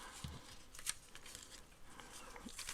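New scissors make a few faint, quiet cutting snips, heard close in an otherwise hushed room.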